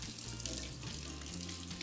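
Water streams steadily from a retractable kitchen faucet, running hot, a continuous hissing splash with no talking.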